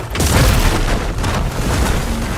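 Heavy booming blasts of supporting fire in Horizon Forbidden West, a loud continuous rumble with repeated low impacts filling the scene and a faint voice briefly underneath.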